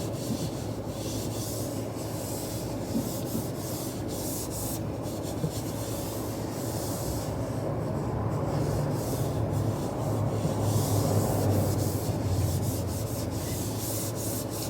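Cloth wiping across the skin-covered bottom of a MacBook Pro 16 M1 laptop, a continuous soft rubbing swish close to the mic with slight surges in intensity.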